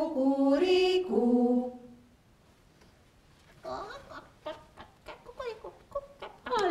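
In a Hungarian puppet show of a folk tale about a little rooster, a voice imitates a rooster crowing in a long rising and falling call, followed by clucking, chattering bird-like sounds and speech from the performers.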